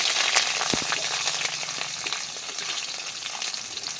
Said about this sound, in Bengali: এবার আমি এগুলো ভালো করে নাড়াচাড়া করে ভেজে নেব।